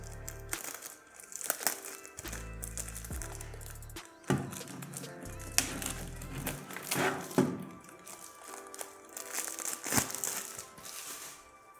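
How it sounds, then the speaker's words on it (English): Clear plastic wrap being pulled and peeled off an Osaka OS 300 Mark III video light, giving close, irregular crinkles and rustling bursts with a few soft taps and handling knocks, no voices. "let me open the wrap of this plastic wrap from this light"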